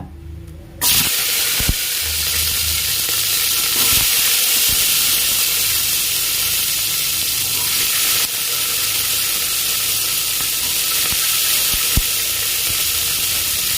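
Curry leaves, shallots and garlic drop into hot oil and burst into a loud, steady sizzle and hiss that continues throughout, with occasional stirring clicks.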